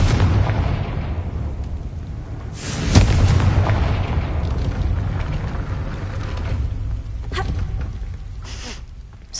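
A Confringo blasting spell in Hogwarts Legacy sets off a deep, booming explosion that swells suddenly after a low rumbling bed and then fades into a long, rolling tail, with a few fainter thuds later.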